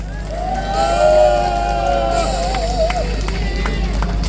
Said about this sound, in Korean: 박수로 응원해 주시길 바랍니다.